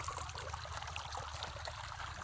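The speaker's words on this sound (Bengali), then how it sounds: "দেখো বন্ধুরা কত স্পিডে জল উঠছে।" Water from a shallow tube-well pump machine, run in a potato field, gushes and splashes in a continuous rushing stream with no voices.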